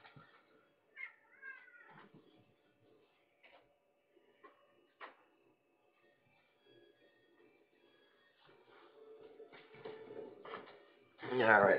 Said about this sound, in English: My cat being stupid.